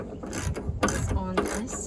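A ratchet clicks in quick bursts, loosening 10mm bolts on the liftgate of a 2008-2013 Nissan Rogue. The close mechanical ratcheting comes in two or three short runs with brief pauses between them, and no one speaks.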